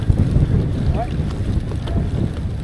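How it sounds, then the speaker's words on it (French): Wind roars and rumbles against the microphone in a steady, loud rush during a bikepacking ride, with low buffeting throughout and no voices. "le vent"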